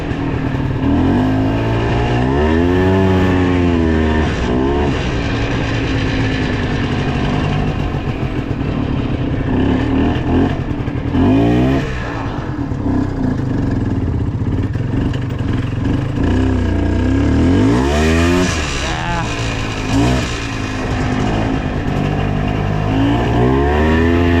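A 2000 Chevrolet Trailblazer engine idles steadily on a muddy outing, then revs up in three rising and falling surges, loud and close throughout with no talking.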